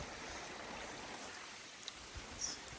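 A stream runs near a remote Alaskan hunting camp, a faint, even rush of flowing water with a few soft splashes and ticks, no voices.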